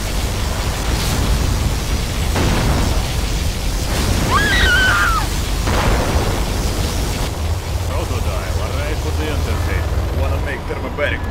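A particle cannon superweapon blast in the real-time strategy game C&C Generals with the Contra mod: a sustained, loud roaring rumble of explosion and debris noise that rolls on for seconds, with brief radio-style unit chatter cutting through midway.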